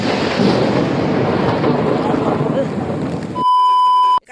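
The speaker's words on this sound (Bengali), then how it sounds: "বৃষ্টি তো নেমেছে অনেক জোরে" Heavy rain pours down in a loud, dense, steady roar for about three seconds. It then cuts off abruptly to a few steady electronic tones.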